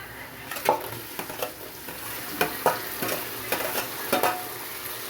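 Rice and dal fry in a pan for khichdi as tomatoes are stirred in, with a soft steady sizzle and several close scraping stirs of a spoon against the pan.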